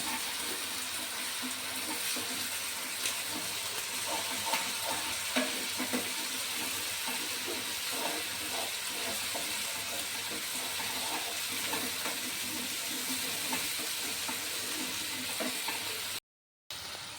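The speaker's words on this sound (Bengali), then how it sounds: "প্রথমে টমেটো বাটা দিলাম। এবার এটা কিছুক্ষণ আমি ভালো করে নেড়ে নেব।" Tomato paste fries in a pan for egg curry while a spoon stirs it, giving a steady close sizzle with scraping clicks throughout and a brief dropout near the end.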